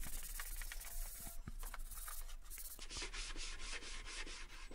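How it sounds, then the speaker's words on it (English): Wood being hand-sanded with 80 grit sandpaper for a bird nesting box, with close, continuous rough rubbing strokes in a brisk back-and-forth rhythm. "I just wanted to give it a light sanding"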